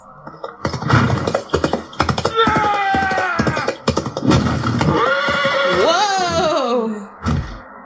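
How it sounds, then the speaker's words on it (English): Horses in a Knight Manager jousting video game sprint into the arena, with loud whinnies and neighs layered over rapid galloping hoofbeats that end in a final snort. "Kristen and Bad Mama Jamma fixate on each other and sprint into the arena on their horses."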